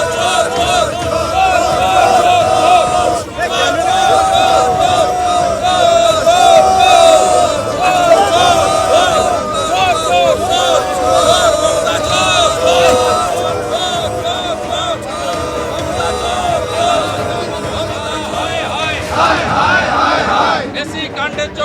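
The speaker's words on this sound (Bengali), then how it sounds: "বিধাননগর কমিশনারেটের সামনে উঠল চোর চোর স্লোগান" A large protest crowd outside the Bidhannagar Commissionerate chanting 'chor chor' slogans, a dense, loud wall of massed voices with rhythmic shouting sustained throughout, close by.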